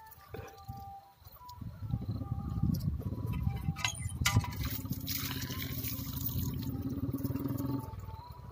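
Water gushes from a village hand pump in a rhythmic splashing stream that swells after a quiet start and runs steadily before easing off, with faint outdoor ambience behind it.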